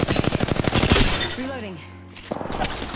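Rapid video game gunfire rattles in dense, even bursts close by, pauses briefly and then resumes, while a voice talks over part of it.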